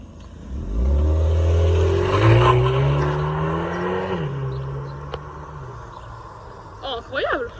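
An Alpine sports car draws near and accelerates, its engine note climbing loud and close for several seconds, then easing away as it passes. Voices talk over the engine, and a brief whoop breaks out near the end.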